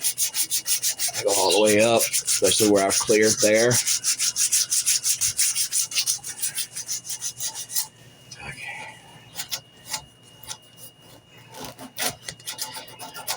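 A wooden knife handle is rubbed by hand with worn sanding belt scraps, making close, rhythmic rasping strokes that turn sparser and quieter near the end, with someone talking briefly at the start.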